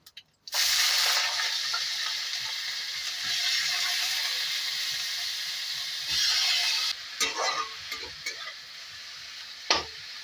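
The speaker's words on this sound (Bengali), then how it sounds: "এবার আমি তাতে নুন মাখানো থোড়টা তুলে দিলাম।" Salted banana stem hits hot oil tempered with dried red chilli and black cumin, bursting into a loud, steady sizzle that runs on, with a few stirring scrapes and clinks near the end.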